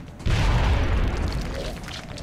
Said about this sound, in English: saving that cover spot allows Spriggan to get a good angle on a grenade